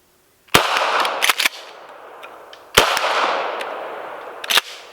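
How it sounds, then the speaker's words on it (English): Two loud, close gunshots from a wildlife control ammunition test fired at a paper target 30 yards away, each a sharp crack followed by a long fading rumble of echo, with faint clicks in between. "2 more shots, 30 yards, aiming black circle."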